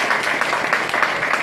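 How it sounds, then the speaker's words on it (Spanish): A church congregation applauds for the Lord during a worship service, a short burst of many hands clapping in a dense, even patter. "Denle un aplauso al Señor."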